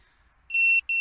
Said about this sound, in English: And what you hear there is the beeper, the beacon beeper.